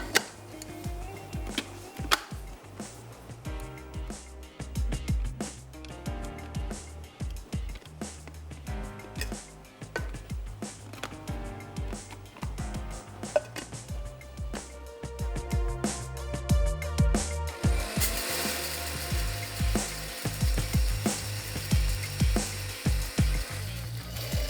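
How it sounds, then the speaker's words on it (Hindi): Nigella and fennel seeds are lightly ground for an achari potato dish: close, repeated gritty scraping and crunching strokes in an uneven rhythm, growing louder and denser toward the end. "कलौंजी और सौंफ। और इसको हल्का सा पीस लेते हैं।"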